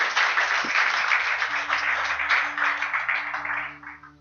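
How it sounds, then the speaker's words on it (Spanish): A church congregation applauds during a worship service, a warm burst of clapping over a sustained organ or keyboard drone that tapers off near the end. "Fuerte aplauso a Dios, bendito Dios."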